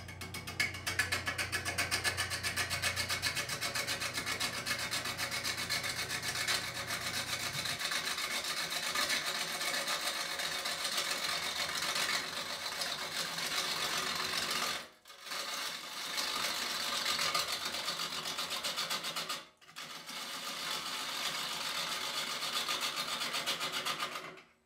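Wood lathe spinning a live-edge burl bowl as a turning tool takes passes across the outside curve, a steady broadband whirring and scraping that runs continuously with two brief stops, no talking.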